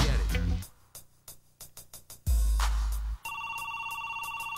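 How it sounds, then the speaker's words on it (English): A telephone rings in a hip-hop track over a pounding beat, its bright electronic ring tone repeating steadily in the last part of the clip. "The phone is ringing,"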